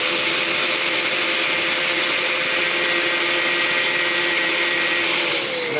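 Handheld grinder cleaning the edge of a quenched steel fire striker, a loud, steady high whine with grinding hiss running continuously throughout.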